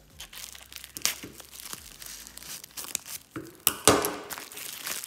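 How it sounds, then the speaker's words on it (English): Plastic packaging holding packets of carnivorous plant seeds (Drosera filiformis, rotundifolia and regia) is cut open, giving close crinkling and tearing sounds with sharp snips and rustles that come in bursts, louder near the end. "So let us now open this up without destroying the packets that the seeds are in."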